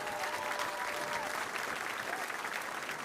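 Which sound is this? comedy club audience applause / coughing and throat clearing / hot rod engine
comedy club audience applause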